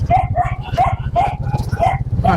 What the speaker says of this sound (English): Usually when we're driving on the motorbikes, you don't hear dogs, but they're barking at each other today.